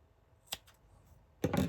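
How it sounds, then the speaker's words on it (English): Scissors snip through blood quill material while tying a fly, two crisp cuts: a faint short snip, then a louder, fuller cut close by, with quiet between. "Grab it, snip it."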